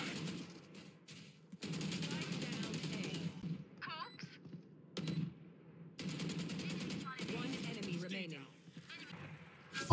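Vandal rifle fire in Valorant, rapid automatic bursts cracking in several separate strings with short pauses between, mixed with game effects and background speech.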